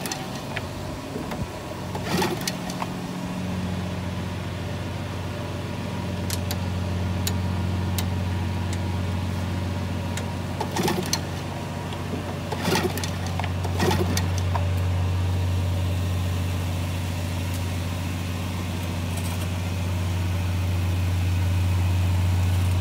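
A 1959 Evinrude 10 hp outboard motor runs steadily throughout, a close, continuous mechanical drone with a few sharp knocks and clatters breaking in along the way.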